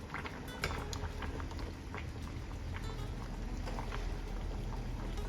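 A pot of village-style egg sambar bubbles on the stove in a steady, dense simmer of small pops and gurgles, close and continuous with no talking over it.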